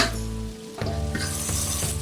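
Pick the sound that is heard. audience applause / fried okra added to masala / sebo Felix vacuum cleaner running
fried okra added to masala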